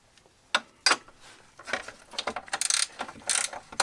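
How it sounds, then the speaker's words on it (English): Ratcheting clicks from a 15 mm wrench turning a bolt on the front A-arm of a Polaris Sportsman ATV during bushing replacement, coming in short close bursts of rapid metallic ticks with no talk. "this is a 15 millimeter wrench"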